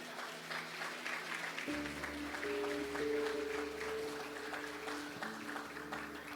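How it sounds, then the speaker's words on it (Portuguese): Church congregation applauding together in a steady wash of clapping, with a held organ or keyboard chord entering partway through and sustaining beneath the applause. "Você pode aplaudir o Senhor?"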